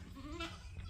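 Goats, mostly nannies with young kids, bleat close by while a border collie drives them toward a creek crossing on a farm; a single wavering bleat stands out over low rumbling background noise.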